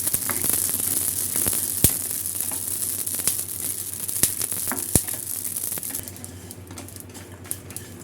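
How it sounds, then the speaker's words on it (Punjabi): Curry leaves with poppy and melon seeds dry roasting in a pan, giving a steady bright sizzle and hiss with scattered sharp crackles and pops, close and fairly quiet, thinning out toward the end. "ਇਹ ਸਾਰਾ ਕੁਝ ਦੇਖੋ ਚਟਕ ਚਟਕ ਜਿਹਾ ਬੋਲਣ ਲੱਗ ਗਿਆ"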